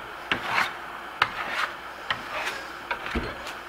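Steel trowel spreading Firmolux Grasello Venetian plaster in thin coats, heard as close, soft rhythmic scraping strokes, each starting with a faint click, with no talk.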